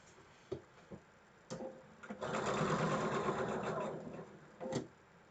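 A sewing machine stitches Moda Blockheads quilt block pieces, running steadily for about two seconds after a few short starts and taps, at moderate volume with no talking.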